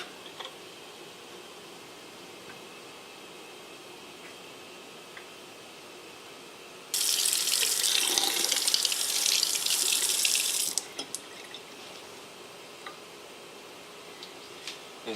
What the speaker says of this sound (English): Just run it under cold water for a little bit.